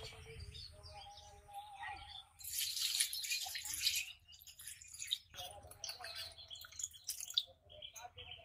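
Pointed gourds (potol) are washed in water by hand in a kitchen, with splashing and running-tap hiss rising in short bursts and trickling drips between, close but fairly quiet.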